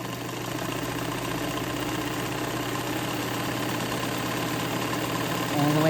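Montgomery Ward Signature UHT J260F sewing machine running at full speed with the presser foot held down, a steady, close mechanical hum with fine rapid ticking that rises slightly at the end.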